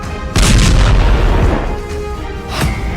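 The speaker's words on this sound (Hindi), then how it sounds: "धमाके का दूसरा वीडियो" A sharp, loud blast from an Israeli strike in Syria near Damascus opens into a long rolling rumble, with further thuds and a fresh burst near the end, with no voices present.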